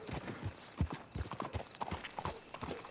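Horse hooves clip-clop in a quick, steady rhythm in the Western video game Red Dead Redemption 2, close and fairly quiet, with no other sound over them.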